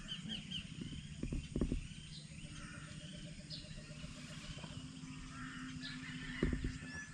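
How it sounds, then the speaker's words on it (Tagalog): Birds call outdoors at a lakeside campsite at Lake Mapanuepe, Zambales, with a few harsh crow-like caws standing out over a soft background hum and distant chirps. "Ang tunog ng mga ibon."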